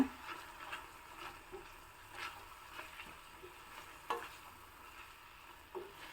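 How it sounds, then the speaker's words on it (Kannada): A spoon stirs brinjal curry with tamarind juice and masala powder in a pan, making quiet, scraping strokes at a steady pace with a faint sizzle underneath. "ಚೆನ್ನಾಗಿ ಮಿಕ್ಸ್ ಮಾಡ್ಕೊಳ್ಳೋಣ"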